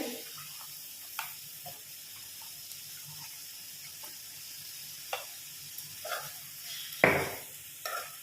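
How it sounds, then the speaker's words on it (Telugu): Eggplant pieces being mixed with spices in a pan: soft scraping and tapping of a spoon against the pan over a faint, low sizzle, quiet and close, with a louder scrape near the end. "వంకాయ వేసుకున్నాక బాగా అంతా కలిసి ఇలా కలుపుకోవాలి"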